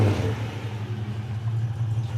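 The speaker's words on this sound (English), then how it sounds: "Good sound, good exhaust." A restored 1964 Ford Falcon Futura idles with a steady, deep exhaust rumble, close and continuous, with slight swells in level and no talk.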